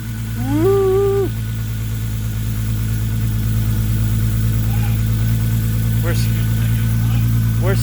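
A Volkswagen MK4 GTI VR6 engine idles steadily after starting, a low continuous mechanical drone that runs throughout, with a brief rising whine near the start and voices talking over it.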